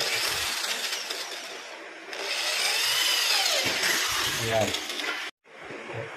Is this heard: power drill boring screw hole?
yes